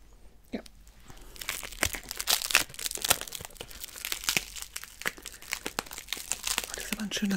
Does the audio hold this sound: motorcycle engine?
no